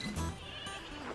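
Young goats bleat at close range, a couple of wavering cries from baby goats penned in during weaning on a small farm, with no talk over them.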